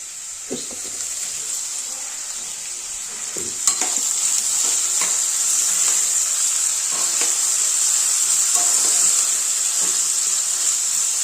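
Brinjal frying in a pan, a steady loud sizzle with occasional clanks and scrapes of stirring throughout.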